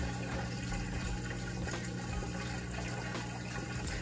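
Kenmore HE washer shifting from drain into its spin cycle, a continuous close whir of running water and motor hum with small clicks, steady throughout.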